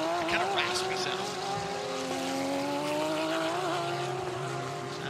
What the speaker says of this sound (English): Strange exhaust note.